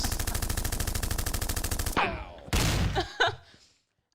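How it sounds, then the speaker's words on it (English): A machine gun sound effect plays in a podcast: a rapid, steady burst of gunfire for about two seconds, then a few scattered heavier shots and echoing bangs that fade out. "Gunshots for your head tops."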